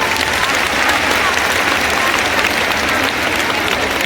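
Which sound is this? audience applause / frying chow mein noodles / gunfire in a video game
audience applause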